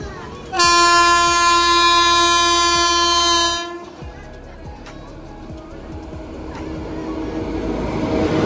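A train sounds a loud, sustained horn for about three seconds, then the rumbling clatter of rail cars passing nearby continues, building gradually in level.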